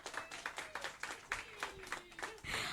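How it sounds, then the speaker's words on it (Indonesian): A small seminar audience at a book discussion gives Pak Budiman a round of applause, a sparse, fairly faint patter of separate claps in an uneven rhythm, with a few overlapping voices. "Boleh beri tepukan untuk Pak Budiman?"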